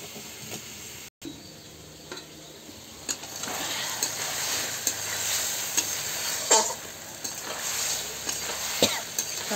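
Cut potatoes fry in a pan with a steady low sizzle and hiss, broken by occasional scraping stirs and clinks, and no voices.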